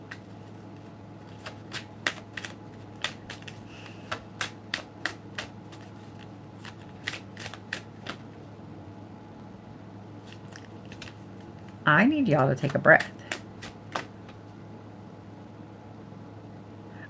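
Tarot cards are shuffled in quick, crisp bursts of riffling clicks that come in clusters, then stop and start again, with someone speaking briefly in between.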